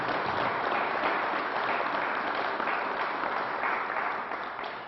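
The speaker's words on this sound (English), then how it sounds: "So let's give him another round of applause." Audience applause at a governor's news briefing, steady continuous clapping from a crowd throughout, fairly loud and even, tapering slightly at the end.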